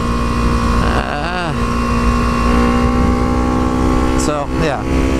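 Near, loud engine of a Suzuki GSX-R motorcycle with a newly installed shock, droning steadily and rising in pitch through two quick revs.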